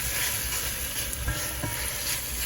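Turkey ham sizzles and fries in a hot pan for an arroz con pollo (yellow chicken and rice). The steady, crackling hiss is fairly quiet and carries no talk.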